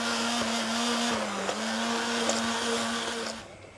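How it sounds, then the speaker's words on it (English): A stick blender whirring steadily as it mixes an orange, cinnamon and chili chocolate ganache, a loud close motor drone that slows near the end and cuts off. "you can use the stick blender and just"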